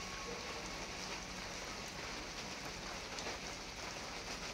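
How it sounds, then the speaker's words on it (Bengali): Quiet, steady rain patters on surfaces in a soft continuous hiss, with scattered drips standing out faintly; no voices. "আপনারা দেখতে পাচ্ছেন পুরো বৃষ্টি হয়েছে"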